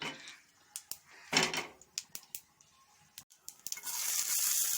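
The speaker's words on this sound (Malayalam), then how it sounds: "ഇതിനു വേണ്ടി ഒരു പാൻ അടുപ്പത്ത് വെച്ച് 1 സ്പൂൺ എണ്ണ ഒഴിച്ചു കടുക് ഇട്ട് കൊടുക്കാം." Mustard seeds hit a spoonful of hot oil in a pan on the stove: scattered sharp pops and clinks at first, then a louder, steady sizzle swells near the end.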